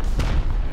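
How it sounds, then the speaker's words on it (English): Rockets fired and exploding in Rust: a single sharp blast with a booming tail, close and loud, over a short burst of gunfire-like noise. "They've been shooting real rockets at us, by the way."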